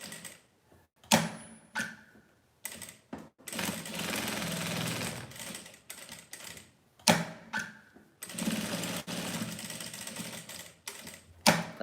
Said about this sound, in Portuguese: eu vou passar o pesponto em volta dela toda, eu só não costuro em cima da lese, eu costuro por baixo dela